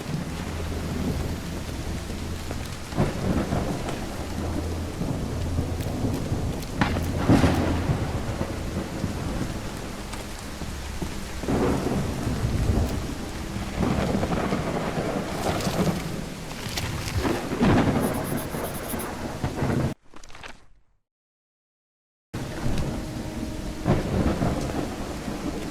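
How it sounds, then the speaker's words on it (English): Heavy rain pours steadily with rumbling thunder in the video game Call of the Elder Gods, the downpour constant and loud apart from a brief dropout of silence near the end. "It's raining cats and dogs here."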